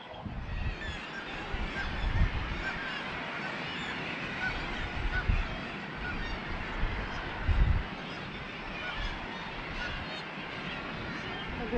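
Kittiwakes and gulls call at a seabird colony in Iceland's Westfjords, making a dense, continuous chorus of overlapping cries, with a person speaking over it at times.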